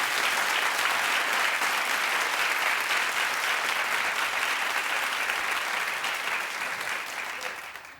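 Studio audience on a daytime talk show breaking into loud, dense clapping that holds steady for several seconds before tapering off at the end.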